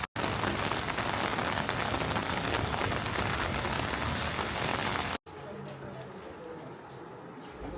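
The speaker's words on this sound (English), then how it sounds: "The rain has come back, sadly. And it's come back with a vengeance." Heavy rain pours down in Nice in the south of France, loud and dense for several seconds, then continues as a softer, more distant downpour after a brief cut.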